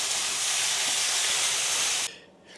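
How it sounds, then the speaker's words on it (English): Prawns, beans and padron peppers with sauce hit a hot pan in a loud, close, hissing sizzle that holds steady for about two seconds, then cuts off abruptly. "And then we stir fry."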